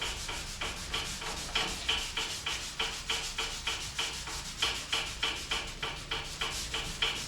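Hand sanding by fingers without a block on a Ford XK Falcon car door panel, a steady rhythmic rasping of repeated back-and-forth strokes, close and moderately loud, with no voices.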